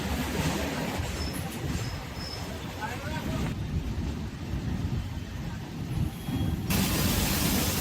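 A passenger train on the Howrah to Mumbai route pulls away after a two-minute halt, heard from on board as a rumbling, clattering rush of wheels and carriage noise with some faint squeals, steady and fairly close.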